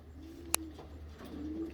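Pigeons coo softly in a loft, a low steady murmur of calls running through the whole stretch with one sharp click partway through.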